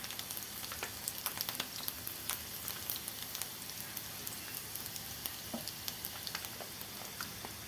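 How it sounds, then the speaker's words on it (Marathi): Garlic and cumin sizzling in hot oil in a pan, a steady close crackle with scattered sharp pops throughout. "तेल गरम झालं आहे। आपण याच्यामध्ये आता लसूण टाकूया।"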